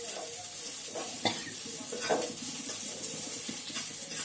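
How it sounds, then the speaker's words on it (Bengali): Dried chilli, five-spice, onion and garlic temper in a little oil for dal, sizzling steadily at close range while a utensil stirs and scrapes the pan in several distinct strokes. "এরকম অল্প তেলের মধ্যে ফোড়ন দিয়েছি, শুকনো লঙ্কা, পাঁচফোড়ন অল্প, আর একটু পেঁয়াজ আর একটু রসুন"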